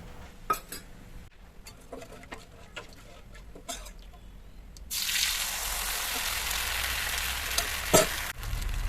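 Ragi appam batter hits ghee in a hot pan and breaks into a steady, close sizzling hiss, after a few quieter clicks and taps of utensils.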